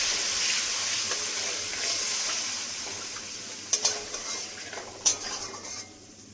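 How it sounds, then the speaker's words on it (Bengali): Spice paste with cumin powder and a splash of water fries in a pan for a vegetarian raw papaya curry, a quiet steady hiss with a few sharp clinks of a utensil against the pan near the end. "কিছুক্ষণ মশলাটা ভেজে নেব একটু"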